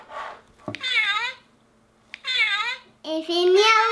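A Peppa Pig Candy Cat toy gives several short electronic meows and chirpy vocal sounds, close and clear, with pauses between them.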